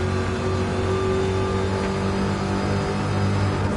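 Race car engine in a video game holds a steady, loud drone with sustained revving throughout, with no pauses or talk over it.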